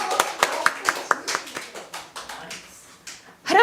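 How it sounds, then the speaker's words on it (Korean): Clapping during a Christmas sermon at church: a handful of sharp, rhythmic hand claps in steady beats that soften and thin out, followed by a voice starting up at the end. "박수해 주세요"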